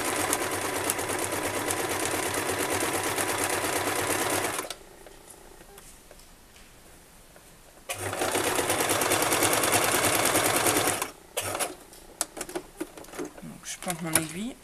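A sewing machine stitching fabric for a washable wipes basket runs in two long steady bursts separated by a pause, then short clicks and handling noises, under a voice speaking French.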